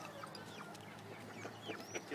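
Red hens and a rooster cluck softly at a moderate distance, with short scattered calls over a steady low background.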